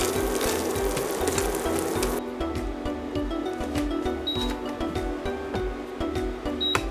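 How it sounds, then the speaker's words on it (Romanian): Steady bubbling sizzle of sugar caramelizing in a saucepan over medium heat, continuous and close, with faint clinks now and then and no voices. "Și lăsăm să se caramelizeze la foc mediu."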